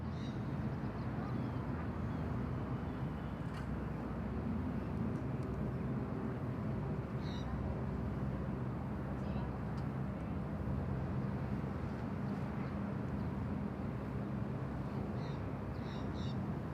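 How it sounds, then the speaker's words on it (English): A Singapore Airlines Airbus A350 lands on runway 01 left at Bangkok Suvarnabhumi Airport, a steady, broad, distant roar of jet engines and wind rumble holding for the whole stretch, with a few faint high chirps above it. "The Singapore A350 coming in from Singapore"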